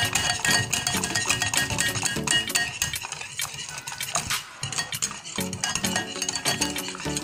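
A metal whisk beats hollandaise sauce with melted butter in a bowl, making rapid, rhythmic metallic clinks and taps that run close and loud without pause.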